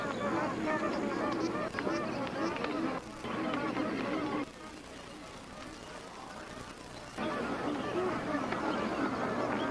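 A flock of magpie geese honks in a dense, overlapping chorus of loud calls at a wetland pool, with a quieter patch midway before the honking swells again.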